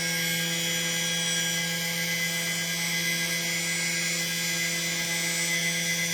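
During takeoff of an RC aircraft in a hardware-in-the-loop simulator test, the electric motors spin with a constant high-pitched whine over a low hum. The sound is steady and continuous, with no talk.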